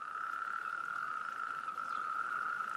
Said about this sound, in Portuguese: permite que os sapos corredores, entre outros, comecem a coachar.